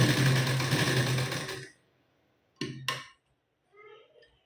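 A sewing machine runs briefly while stitching a blouse shoulder seam, a close steady whir for about a second and a half before stopping, followed by a couple of short handling knocks.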